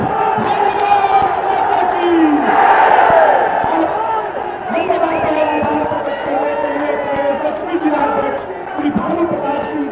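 A large political rally crowd at a Gazipur campaign event roars with sustained cheering and applause, loud and dense throughout, swelling near the middle, with shouts and whoops rising above the mass of clapping.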